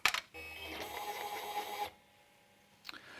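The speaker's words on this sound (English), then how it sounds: "Let's put the cassette back in and allow the printer to calibrate." An ICE Zodiac Hawk thermal transfer overprinter calibrating its ribbon after the cassette is reinserted, giving a steady mechanical whir and motor hum for almost two seconds before stopping, then a brief faint click.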